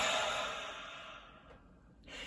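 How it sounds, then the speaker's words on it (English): One long, deep breath is drawn and let out, soft and close, with a breathy rush that fades near the end. "take a deep breath"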